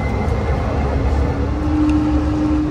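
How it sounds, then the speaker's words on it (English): An airport train moving at high speed toward Concourse D gives a steady loud rumble and roar, a continuous close interior drone with a faint whine and no talk. "the train is going in a high speed"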